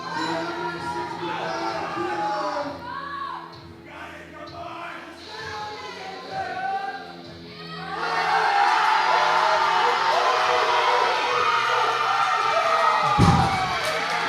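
A crowd at a powerlifting meet cheers for a lifter, with shouts and whoops building into a loud, sustained roar of applause at a distance, with an announcer talking over it.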